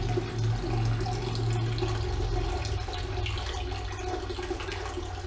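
Water runs steadily through brewing equipment while grain goo is rinsed out, a continuous close splashing flow with a low hollow rumble.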